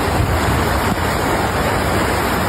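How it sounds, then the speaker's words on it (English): Floodwater rushing during flash flooding in Lawton, Oklahoma: a loud, dense, continuous roar of churning water mixed with wind buffeting the microphone, steady throughout with no voices. "There's literally water rushing out of there."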